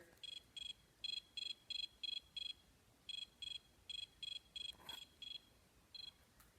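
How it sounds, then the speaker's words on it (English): Cricket chirping in short, evenly spaced bursts that repeat steadily in groups, fairly faint, with no other sounds around. "he chirped the most beautiful sound that she had ever heard."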